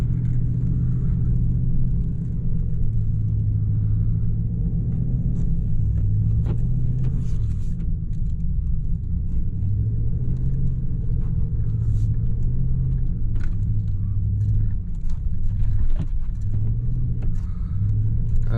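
A RAM pickup truck's engine rumbles low and steady as it drives through deep snow, with small rises in revs along the way and near-constant road noise. Talk is barely present.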